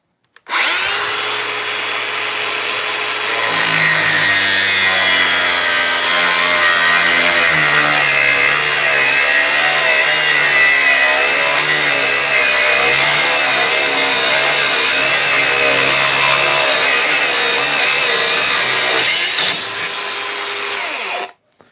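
A Makita brushless angle grinder spins up and cuts at full power, a loud, steady high whine held for about twenty seconds before it winds down.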